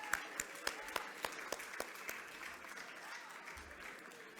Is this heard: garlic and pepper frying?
no